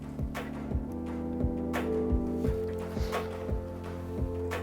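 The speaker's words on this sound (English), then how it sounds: "It's a very, very simple kind of harmonic intro with a simple kind of samba-ish clap loop on top of it." Harmonic synth intro of a drum and bass track, soft sustained chords under a light, regular samba-style clap loop, moderately quiet and steady.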